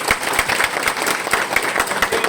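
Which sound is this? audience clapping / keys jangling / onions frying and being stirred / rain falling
audience clapping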